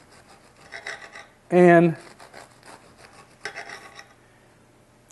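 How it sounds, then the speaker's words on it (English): A knife saws through a loaf of French bread in rhythmic rasping strokes, the crust crunching in short bursts, with a brief spoken word cutting in partway through. "French bread, we cut it approximately 1/4 inch thick"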